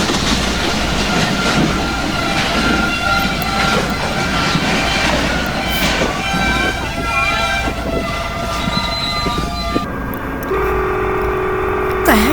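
A train passes close by with rumbling wheels, clattering cars and ringing tonal squeals and horn-like tones, loud and continuous throughout, with a shift in pitch near the end.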